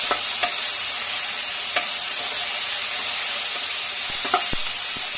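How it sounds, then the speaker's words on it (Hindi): Chopped green chili and onion sizzling steadily in a pan for potato kachori filling, with a few spatula scrapes and taps cutting through the continuous close, loud frying hiss. "अब इसे अच्छी तरह से भून लूंगी"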